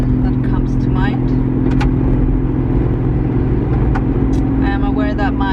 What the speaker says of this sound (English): I am aware that my car sounds like a moped sometimes, especially on the highway